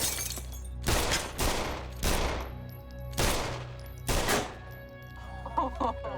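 Five loud, sharp gunshots from a blank-firing .45 pistol with a gunpowder load ring out at roughly one-second intervals, each with a brief echoing tail.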